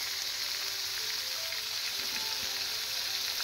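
Onion and tomato sauté in a pan with salt for a village-style dried-fish curry, giving a steady, even sizzle that runs unbroken from start to finish.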